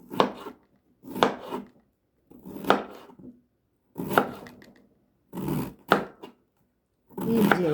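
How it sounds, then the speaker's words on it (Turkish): A knife chops red cabbage thinly on a board for pickle, crisp cutting strokes in rhythmic bursts of several quick chops separated by brief pauses, close and clear with no talking. "Güzel yine ince ince doğruyorum"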